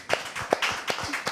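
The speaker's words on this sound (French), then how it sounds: "je voudrais demander au public de rendre gloire au Seigneur par des applaudissements" A church congregation gives applause in praise, heard as a few sparse, distinct claps spaced irregularly and somewhat hollow, fairly quiet and close rather than a full ovation.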